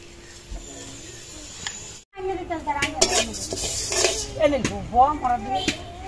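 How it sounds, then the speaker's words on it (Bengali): Raw rice is dry-roasted in a pot for a coconut and jaggery dish, with a quiet hiss giving way after a brief pause to busy scraping and rattling of grains stirred against metal, and a voice talking over it. "এটা ভেজে নেব।"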